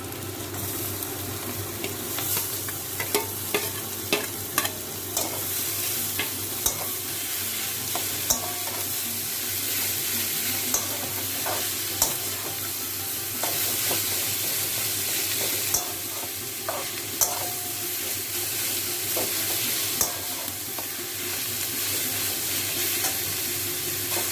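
Beetroot and onions are stir-fried together in a pan, with a steady sizzle and frequent scraping knocks of a spatula stirring the vegetables, close and continuous for over twenty seconds.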